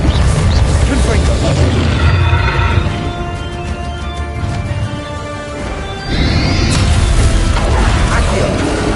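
Blasting spell explosions in the video game Hogwarts Legacy, heavy booms with crashing debris and ringing tones, loud, with a quieter lull mid-clip before another blast, a horse whinnying amid the chaos.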